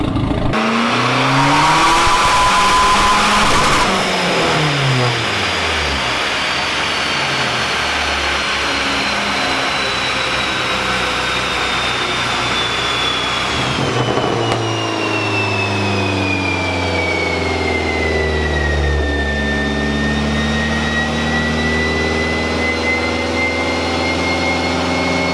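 A Dodge Challenger's Hemi V8 roars loud and close through a full pull, revving hard with a rising harmonic sweep, easing briefly, then climbing again steadily with no talk over it.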